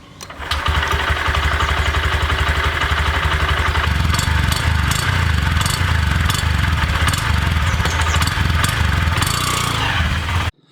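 A 2020 Honda Shine BS-6 fuel-injected motorcycle engine starts, then settles into a steady, even idle that carries on loudly and close for several seconds.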